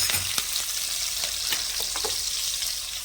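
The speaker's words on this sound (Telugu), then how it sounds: "ఉల్లిపాయలు పచ్చిమిరపకాయలు చక్కగా దోరగా వేగనిద్దామండి." Chopped onions and green chillies fry in a pan, giving a loud, continuous close sizzle with scattered crackles and occasional stirring scrapes, no voices.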